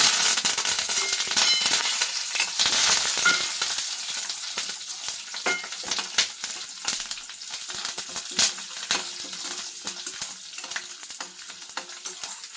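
Cashews, dried chillies, chana dal, urad dal and curry leaves frying in hot oil for akki shavige bath, a steady dense sizzle and crackle with occasional sharp pops, loud and close, no talking.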